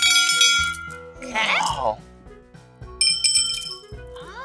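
A small bell and a larger bell are struck in turn, the small one ringing high and the bigger one lower, each ding decaying briefly between short exclamations from speakers.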